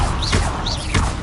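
Fire spell cast in Hogwarts Legacy: two quick whooshing bursts with rising swirls, each ending in a dull thud, loud and close with no talk.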